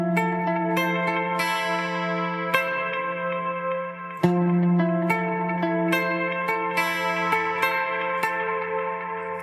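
Electric guitar strums major seventh chords, heavy with echo, chorus and reverb, so each shimmering chord rings long and blends into the next in a steady wash with no talking.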